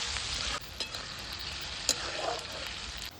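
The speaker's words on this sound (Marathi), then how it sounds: "ते पण असे चांगले परतून घ्यायचे।" Onion and tomatoes sautéing in a pan over a wood-fired stove, a soft continuous sizzle with occasional scraping stirs and small clicks, fairly faint and close.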